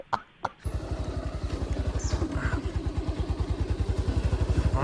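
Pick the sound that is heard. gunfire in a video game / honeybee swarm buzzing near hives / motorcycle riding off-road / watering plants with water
motorcycle riding off-road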